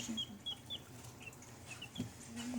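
Chickens in a coop, among them a Cochin hen, with ducks close by, cluck softly. The short calls come in scattered bursts over a low, steady background and stay faint and fairly near.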